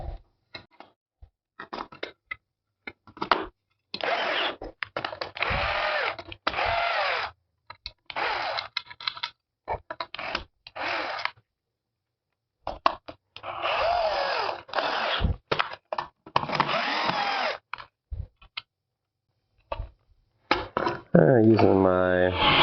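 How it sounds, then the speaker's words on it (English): A small Bosch power drill whirs in repeated short bursts, starting and stopping in an uneven rhythm at close range with brief quiet gaps between runs. "little Bosch drill"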